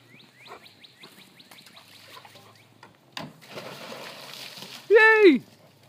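A dog leaps into a backyard swimming pool, making one sharp splash followed by a few seconds of sloshing water, with a voice talking before the splash and a short high-pitched call at the end.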